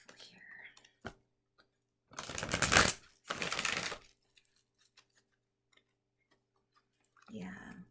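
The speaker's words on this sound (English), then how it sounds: "let me do a quick shuffle" Two brisk bursts of tarot card shuffling riffle close by, with faint whispered speech and small clicks before and after.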